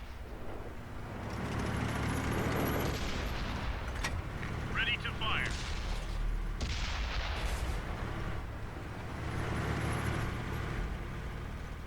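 A tank cannon booms in World of Tanks on Xbox, with a few heavy, sharp blasts and rumbling engine noise in between, under a voice talking in places.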